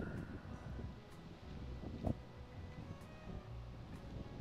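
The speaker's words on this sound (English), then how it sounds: "Pretty windy." Low, rumbling wind noise buffeting the microphone in a small town street in Marmarth, North Dakota, with a few faint ticks and a brief gust-like thump midway.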